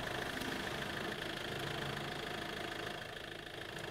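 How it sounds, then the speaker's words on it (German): A car engine idles steadily and close by at a campsite-bound stop on the island of Rügen, a continuous even rumble with no talk over it. "Motor lassen wir so lange an hier. Motor läuft, alles okay."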